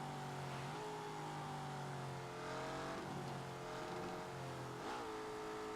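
A car's exhaust in The Grand Tour video game drones steadily at high revs, its pitch dipping and climbing as the engine eases off and picks up again through a few gear changes, loud and continuous throughout.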